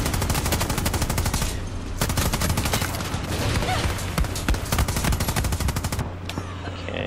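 A sentry gun in Far Cry 6 fires rapid automatic bursts, loud and close, with tight machine-gun rattles broken by brief pauses and a sharp cutoff near the end.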